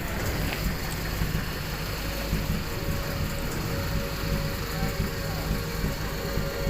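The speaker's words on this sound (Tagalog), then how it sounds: "Eh, okay pa yung andar ng makina." A Toyota 4K engine in a four-speed single cab pickup idles steadily and fairly quietly under a constant broadband hiss, with people chatting nearby.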